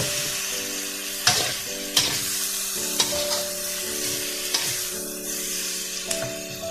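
Water goes into a hot wok of stir-frying pork belly with peppers and beans, giving a steady, bright sizzle with a few sharp clanks and scrapes of the spatula at irregular intervals.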